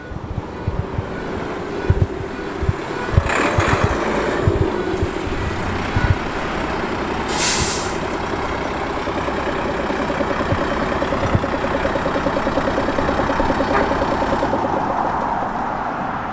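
A classic lorry rumbles in at a UK lorry show, its diesel engine a low steady idle with some irregular knocks and a brief hiss midway, moderately near, with no talking.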